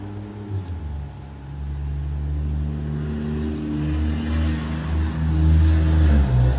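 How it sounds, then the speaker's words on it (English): An obnoxious truck drives by on a residential street. Its low engine rumble builds steadily and grows louder toward the end, a continuous drone with no talk. "Let the obnoxious truck go by here."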